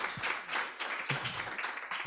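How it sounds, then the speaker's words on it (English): Audience applause for conference panelists at a regional reproductive justice litigation event, steady moderate clapping from a room of people that continues throughout without talk. "A rousing round of applause for my panelists"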